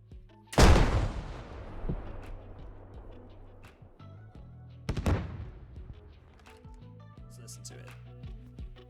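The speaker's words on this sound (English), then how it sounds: "One of these kits now uses the RPG-28, firing a massive 125mm Tandem heat warhead." An RPG-28 launcher in Squad firing a massive 125mm tandem HEAT warhead: a loud, sharp launch blast with a long rolling decay, then a second heavy boom a few seconds later, followed by quieter distant rumbles.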